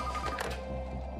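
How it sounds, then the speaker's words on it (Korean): A telephone rings with an incoming call in a film scene, a steady electronic ring with a sustained tonal buzz over low background sound. "그때 걸려오는 전화."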